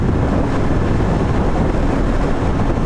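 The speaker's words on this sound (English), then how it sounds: "Yeah, there is definitely some crosswind," Steady crosswind roars across the microphone during a ride on a Royal Enfield Interceptor 650 motorcycle, a dense, constant rushing noise with no break.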